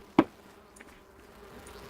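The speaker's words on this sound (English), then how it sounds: "I hear more angry bees" Angry bees buzz faintly in the video game Enshrouded, with a sharp thud near the start before the low droning continues.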